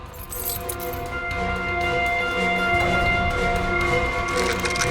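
A bunch of keys jangles and clinks in short metallic bursts over a few seconds, fairly close, against a steady tonal background with a faint hum.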